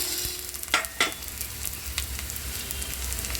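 Chopped onion fries in a pan with green chillies, giving a continuous close sizzle. Two distinct scraping stirs come early, followed by lighter clinks. No one speaks.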